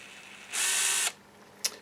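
A Bosch GSB 18V-28 cordless combi drill running slowly on its variable trigger, a steady whirring motor burst of about half a second, then quiet and a brief mechanical click near the end.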